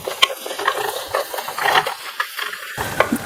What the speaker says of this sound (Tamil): இதை நல்லா கிளறி விட்டுடலாம்.